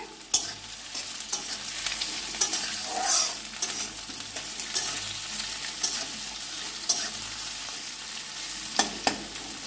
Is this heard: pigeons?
no